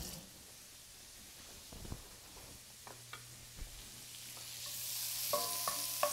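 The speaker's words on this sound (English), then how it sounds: "This half of an onion is gonna go into our bacon grease here. We're gonna cook this for about three minutes, just until it gets soft." Half an onion fries in bacon grease, a soft steady sizzle with a few light knocks and scrapes, the frying noise growing a little louder toward the end.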